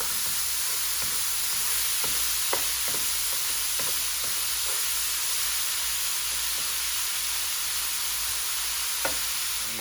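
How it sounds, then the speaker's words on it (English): Ground pork and beef browning in a pan for a Thai basil stir fry, giving a dense continuous sizzle and hiss with a few light clicks of stirring, no speech. "our pork and beef mixture. We're just gonna brown it."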